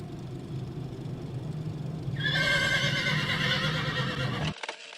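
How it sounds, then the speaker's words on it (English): A male human character in the horror game HORSES neighs like a horse, a loud, bright whinny with wavering pitch that rises over a low rumbling background and then cuts off abruptly. "and then the male human neighs"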